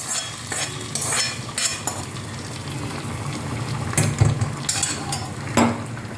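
Curry leaves sizzling and frying in hot oil, a continuous crackling hiss with sharp bursts of spattering and occasional scrapes of a utensil stirring in the pan.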